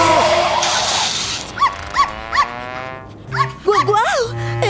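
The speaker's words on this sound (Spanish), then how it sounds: "Eres un perro muy malcriado." A small disobedient dog yips and whimpers in a few short, near bursts, two or three sharp calls, then a louder cluster at the end, heard under and between excited talk in a cartoon scene.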